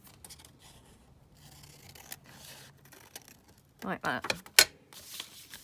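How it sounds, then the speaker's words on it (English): Scissors trim a vintage pattern paper envelope liner, making a short burst of close, crisp snipping and rustling after quiet handling, with a brief spoken remark. "I can just trim that down now."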